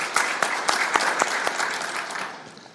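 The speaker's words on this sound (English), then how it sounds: "So please a round of applause for him." Audience applause at a workshop forum in Addis Ababa, a steady burst of clapping from a room of people that gradually fades toward the end.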